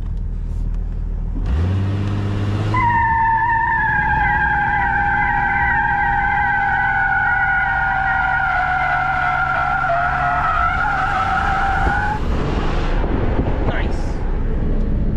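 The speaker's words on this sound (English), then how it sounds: "All right, abrupt stop for science." Tires of a Jeep Cherokee XJ skid loudly in a long, sustained squeal lasting about nine seconds as the vehicle brakes abruptly to a stop, with engine rumble beneath and a brief voice afterward.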